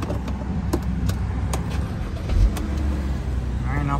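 BMW car engine starting and then idling, a steady mechanical rumble close by with faint clicks, loud and continuous with no talk over it.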